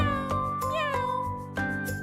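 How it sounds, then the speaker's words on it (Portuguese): Domestic cat giving a few close, clear meows one after another, including a rising drawn-out call, over a soft musical backing with no talking. "Este é o som do gato, pronto para miar novamente."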